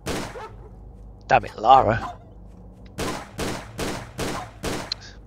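Lara Croft fires her pistols in Tomb Raider: The Angel of Darkness, a run of five evenly spaced, sharp shots following a few other game sounds, with a brief spoken line near the start.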